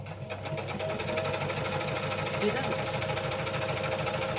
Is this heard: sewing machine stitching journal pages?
yes